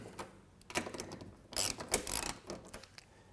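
A ratchet and socket loosening small screws on a car's passenger side mirror, quiet clicking ratchet strokes in short irregular bursts with pauses between turns.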